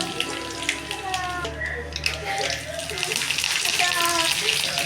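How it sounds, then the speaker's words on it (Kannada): Mustard seeds, cumin and garlic sizzling in hot oil while making palak dal, a close crackling hiss that grows denser toward the end, with household sounds and some voice in the background. "ಎಣ್ಣೆ ಕಾದ ನಂತರ ಸ್ವಲ್ಪ ಸಾಸಿವೆ ಜೀರಿಗೆ ಹಾಕ್ಕೊಂಡಿದ್ದೀನಿ."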